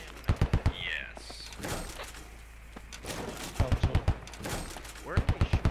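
Bursts of automatic gunfire in the military shooter game Squad: three tight clusters of sharp shots, loud and close, separated by quieter stretches of battlefield ambience, with some brief talk in between.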